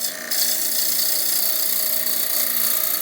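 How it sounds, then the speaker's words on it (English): A wood lathe spinning at speed while a turning tool cuts into the wood, giving a steady, loud, continuous rasping hiss that holds evenly for about three seconds after a brief quieter start. "Let the lathe come up to speed, and very gently you'll go"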